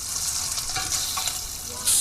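Spam fries in a pan in a TV commercial, a steady close crackling sizzle with a brief louder hiss at the end, with no talking over it.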